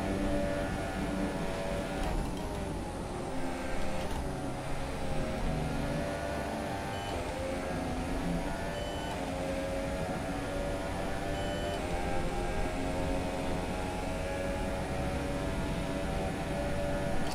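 An F1 car engine in the F1 2017 racing game screams near full throttle as a steady, high whine, with a couple of quick gear-shift dips early on before it holds a constant pitch.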